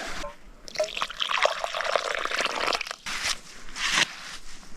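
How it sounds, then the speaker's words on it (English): Wash water from camp dishes poured out into a dug sump hole, a steady splashing, trickling pour close by with a few brief louder gushes, no talking. "just gonna go make a sump hole and disperse this water in it"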